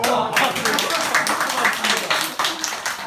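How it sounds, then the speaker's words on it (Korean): A village group claps together outdoors during a community visit, a loose, uneven patter of hands that rises and falls over a few seconds, with some voices mixed in. "박수 한번 칩시다"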